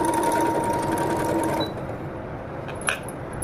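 A Brother FS101 sewing machine stitches fabric with a close, rapid mechanical whir for about a second and a half, then stops, leaving a quieter hum and a small click.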